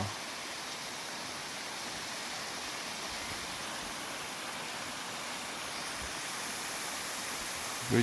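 Saka (Kivisilla) waterfall in Estonia, a multi-step cascade flowing toward the Gulf of Finland, heard as a steady, even rush of falling water from a moderate distance, unbroken throughout with a brief bump at the very end.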